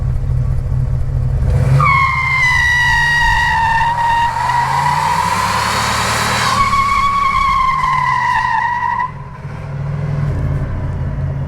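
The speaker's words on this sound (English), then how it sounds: "So it turns out that a 1981 Turbo Trans Am 301 can indeed do a burnout." A 1981 Pontiac Turbo Trans Am with a 301 engine does a burnout at a drag strip, its engine roaring loud and close with a long rising and falling tire squeal that holds for several seconds.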